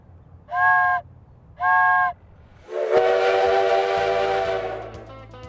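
The 1880 Train, a vintage steam train in the Black Hills of South Dakota, sounds its whistle in two short blasts, then a longer loud blast as the engine hisses and chugs nearby.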